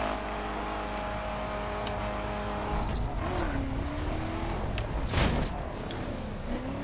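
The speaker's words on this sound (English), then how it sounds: "Bit of a back road country drive." Car engine in The Crew video game driving along a country back road, a steady mid-level drone with a brief rising rev and some light clinking, alone without talk.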